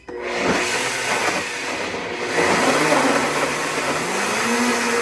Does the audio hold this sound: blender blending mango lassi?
yes